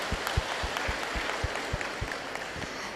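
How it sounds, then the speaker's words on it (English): Crowd applause at a university achievers' day celebration: steady, continuous clapping from a large audience with heavier claps standing out at a regular beat, moderately loud and sustained throughout. "you all deserve a big round of applause for this"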